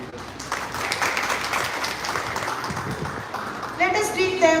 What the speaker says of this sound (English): Let us greet them with a big round of applause